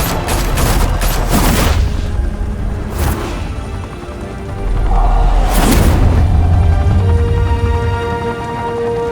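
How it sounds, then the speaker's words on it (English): Gunfire in a shootout in the video game Batman: The Telltale Series: loud bursts of rapid shots and booms, with heavy volleys at the start, near three seconds and again around five to six seconds over a rumbling background. "Open fire!"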